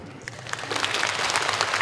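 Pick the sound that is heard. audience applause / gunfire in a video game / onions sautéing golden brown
audience applause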